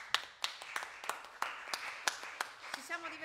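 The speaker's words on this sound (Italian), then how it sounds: "proporrei un applauso tutto particolare, tutto dedicato al maestro Paolo Zambelli" Applause from a theatre audience at a Christmas show in Rovigo, heard as a sparse run of separate, fairly faint claps at an uneven rhythm rather than a dense ovation.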